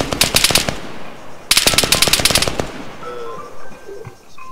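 Automatic gunfire in the video game ARMA 3, two loud, rapid bursts of shots with a short gap between them, followed by quieter ambient game sound.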